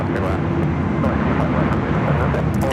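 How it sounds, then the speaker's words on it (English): A DHL Polar Air Cargo plane arriving at LAX from Seoul, a steady loud jet roar rumbling throughout the short stretch. "DHL Polar Air Cargo, flight 916, coming in from Seoul."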